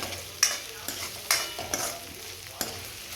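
Onion sautéing in a pan for a home Marathi meal, heard as a quiet background sizzle broken by several sharp scraping stirs of a spatula at irregular intervals, with no voices.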